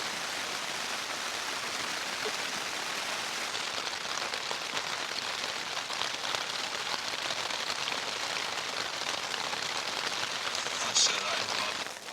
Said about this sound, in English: I'll just stay in my sleeping bag for a bit longer and enjoy the sound of the rain